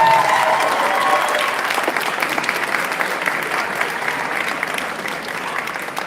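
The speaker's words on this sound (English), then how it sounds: "Could everybody please give another warm round of applause for all of our speakers?" An event audience claps for its speakers, a dense, sustained round of applause that stays loud and then eases off slightly toward the end.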